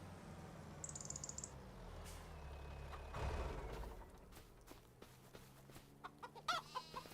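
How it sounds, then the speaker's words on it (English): Chickens clucking on a farm in the Farming Simulator 25 video game, faint scattered clucks and rooster-like calls over low ambient farm noise, with a brief high beeping tone and a few louder clucks toward the end. "How are my chickens doing?"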